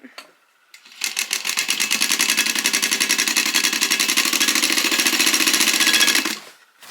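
A sewing machine stitches a grocery tote bag with a steady, fast mechanical whirring hum of about five seconds, close and loud after a short quiet start.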